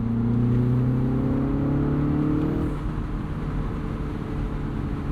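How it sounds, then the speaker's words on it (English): A 2025 Mini Cooper S Convertible's turbocharged engine in go-kart mode revs with a rising drone, then drops as gears shift, settling into a steady engine hum and road rush. "Doesn't make a bad noise, and you have all of that turbo blow off as well"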